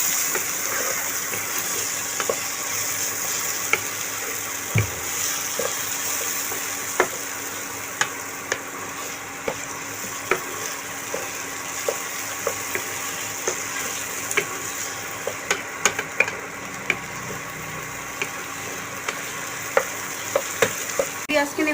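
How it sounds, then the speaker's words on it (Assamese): Onions fry in a pan for chicken pulao, a continuous close sizzle and crackle with occasional sharp ticks of stirring across roughly twenty seconds, no voices. "এতিয়া মই পিঁয়াজখিনি ফ্ৰাই কৰি দিম।"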